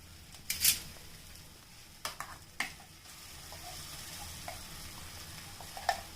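Ground paste of soaked chana dal, moong dal and red chilies sizzling quietly in a pan, with a faint steady fry, a few sharp scrapes and clinks of stirring.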